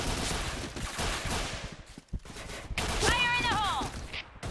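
Bursts of MK.46 heavy machine-gun fire in the shooter Point Blank, a rapid crackling rattle with a brief lull partway, mixed with in-game alert tones and someone talking over it.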